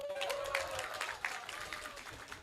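Audience applause at a public political dialogue event in Lampung: moderate crowd clapping from a distance, steady and diffuse, with scattered louder claps and a faint background tone.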